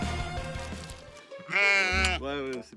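A goat bleats loudly and close, two wavering cries in quick succession after a stretch of low murmuring voices and rustle.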